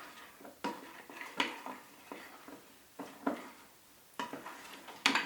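Melted chocolate is stirred around a hot basin, the spoon scraping and clinking against the sides in uneven strokes, fairly close and quiet with no talking.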